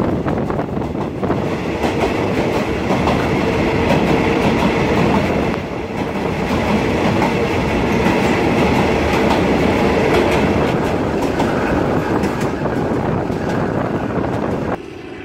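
Loud, steady rumble of a train rolling along the rails in Thailand, with a constant rattling roar and wind noise throughout, no talking.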